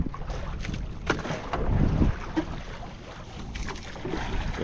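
A boat moves across the water in a busy fishing area crowded with boats, with a steady low rumble of motor and water and gusts of wind buffeting the microphone, with no voices.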